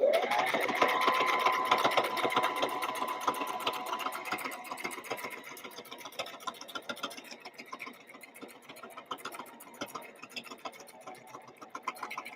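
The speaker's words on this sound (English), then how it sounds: "you can just like let the machine sew at that angle" A sewing machine stitches fabric at an angle, a fast, steady mechanical chatter of needle strokes running continuously and close, starting slightly louder and settling to an even rhythm, with no talking.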